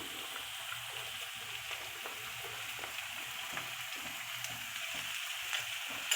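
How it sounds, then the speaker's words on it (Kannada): Chopped beans, carrot and potato frying in a pan, a steady close sizzle with soft stirring scrapes and small crackles running throughout, no voices. "ಹೆಚ್ಚಿಟ್ಕೊಂಡಿರೋ ತರಕಾರಿ ಬೀನ್ಸು ಕ್ಯಾರೆಟು ಆಲೂಗಡ್ಡೆ ಹಾಕ್ತಾಯಿದ್ದೀನಿ"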